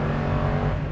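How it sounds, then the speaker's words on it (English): A 2020 Toyota Sequoia TRD Pro at full throttle gives a deep, steady engine roar, loud and close from inside the cabin, holding level throughout the brief moment with no talk over it. "if you floor it in drive, watch this, gone"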